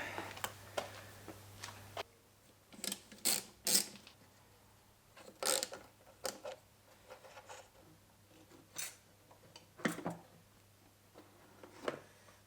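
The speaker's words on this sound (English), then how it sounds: "Start by taking the intake manifold off to create some room beneath it." Intake manifold being removed from a BMW S54 engine, scattered metallic clicks, ratcheting and clattering of parts and tools at close range, in short irregular bursts separated by quiet gaps.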